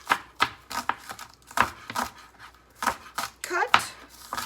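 A knife chops scallions on a cutting board in a series of sharp, irregular taps close by, with a person talking between the cuts.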